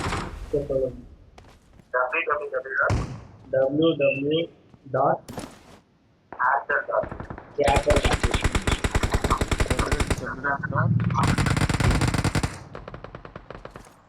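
Rapid automatic gunfire from the mobile shooter BGMI crackles in long, loud bursts late in the clip. Excited voices talk over the game during the quieter stretches before the shooting.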